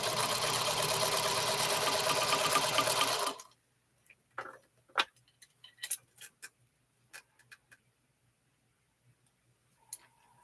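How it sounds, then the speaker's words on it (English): A Featherweight sewing machine runs in a steady, loud mechanical whir for about three seconds, then stops; scattered light clicks and taps follow in near silence. "Sandra, your featherweight sounds like an older sewing machine."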